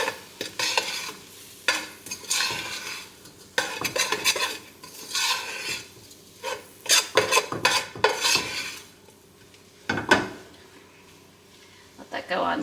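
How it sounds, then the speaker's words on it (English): A spoon scrapes and clanks in a pot while onions and seasonings are stirred and start to toast, irregular metallic strokes over a soft sizzle, with a person talking between them. "Now let's stir this around. Get it toasting up a little bit."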